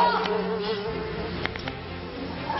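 A fly buzzing in a tight space at a French game show, a steady droning hum with a few brief clicks and knocks, moderately close, no voices.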